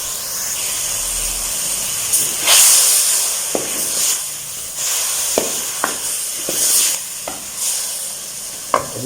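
Water is poured into a hot pan of fried vegetables and chicken for a soup, giving a loud sustained hiss and sizzle with bursts of steam and occasional stirring clatters, no voices.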